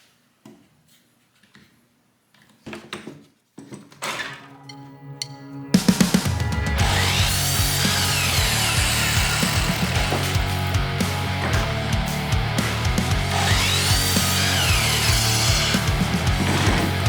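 A power saw cuts pallet wood pieces: a few quiet knocks and clunks of handling come first, then the saw starts loud and close and runs steadily to the end.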